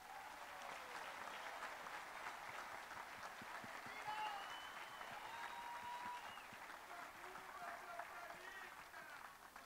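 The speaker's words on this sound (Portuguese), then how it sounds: "Eu gostaria de pedir uma salva de palmas aos nossos representantes das delegações" A large party congress audience applauds the international delegations, sustained clapping from a big hall crowd for several seconds, with a voice faintly carried over the noise.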